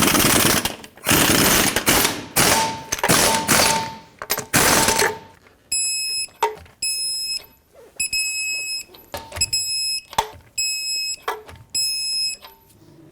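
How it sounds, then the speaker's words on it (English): Lug nuts are run onto a Toyota 4Runner front wheel with a series of loud, rattling power-tool bursts, followed by a string of short, bright electronic beeps. "Put on all 6 of your lug nuts, snug them up, and then we'll torque them to 76 foot-pounds."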